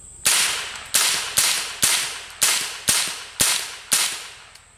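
An M4 rifle fires at a bone outdoors, eight sharp loud cracks spaced roughly half a second apart, each trailing off in a short echoing decay.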